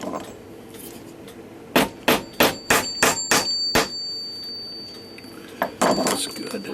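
Seven quick ringing metal taps, then two more after a pause, close and loud, as a bushing is hammered into the plate of a New Haven tambour mantel clock.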